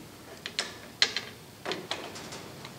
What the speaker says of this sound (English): now let's see if we can get the gearbox on